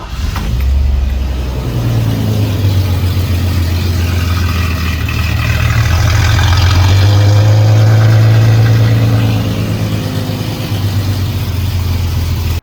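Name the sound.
truck engine idling with exhaust leak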